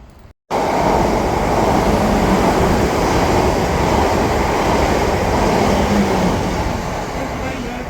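A train passes through St Denys station with a loud, steady broadband rumble that runs unbroken after a brief silent start, easing off slightly toward the end.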